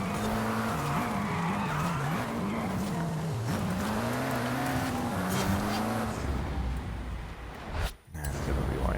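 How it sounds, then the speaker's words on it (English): A race car engine in the Forza Horizon 5 video game drones and shifts pitch while its tires squeal in long skids. The sound is loud and continuous, and it drops briefly near the end. "We're racing through the pack now."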